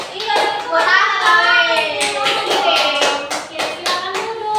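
Classroom of junior high students clapping for a presenting group, close and lively rhythmic clapping mixed with children's chatter and voices throughout.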